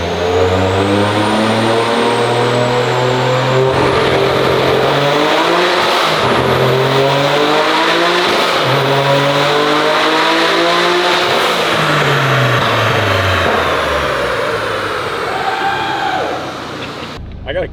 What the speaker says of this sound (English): this is the first time we're actually dynoing the car in front wheel drive